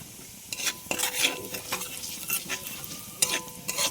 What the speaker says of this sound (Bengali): এখন আমি জিরে ভেজে নামিয়ে রাখবো